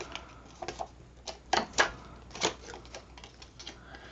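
Scissors snipping up the side of a paper mini folio, a series of short crisp cuts and crinkles in an uneven rhythm, close and fairly quiet.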